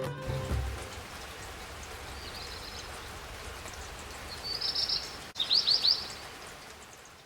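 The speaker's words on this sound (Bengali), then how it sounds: "ঘুম থেকে চোখ খুলেই বৃষ্টি" Morning monsoon rain falls in the hills at Kaffergaon near Kalimpong as a steady, soft, even hiss. A few brief bird chirps rise near the end.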